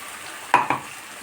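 Tomato paste frying in oil in a pan: two quick, close scrapes of stirring lift briefly over a soft, low sizzle, then the pan settles back to quiet.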